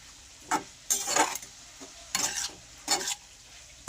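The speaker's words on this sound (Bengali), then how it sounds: "চিংড়ি মাছগুলো মিশিয়ে নিলাম।" Fried prawns being stirred into a pan of banana stem for a Bengali prawn and thor dish, with several short scraping stir strokes over a soft sizzle, close and fairly quiet, no talk.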